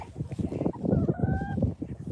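Chickens and a rooster cluck close by in a continuous busy chatter, with a brief higher drawn-out call rising through the middle, and no voices over it.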